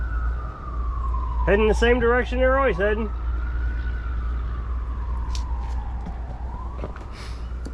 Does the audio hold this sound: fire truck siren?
yes